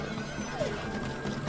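A horse in a survival riding video game neighs once, a short high whinny over faint hoof clip-clop and a low ambient bed.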